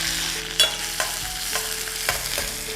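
Curry leaves crackle and sizzle in hot oil, with occasional stirring scrapes and light pops, close and fairly quiet, no voices.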